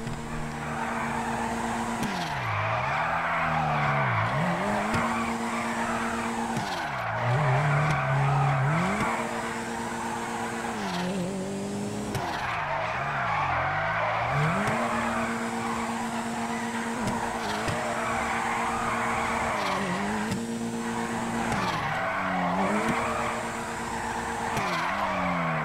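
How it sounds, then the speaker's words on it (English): A Karin Futo drifting in GTA V, its engine revving and falling in repeated waves while the tires squeal continuously, loud and close throughout with no talk. "Check out my sick drifting."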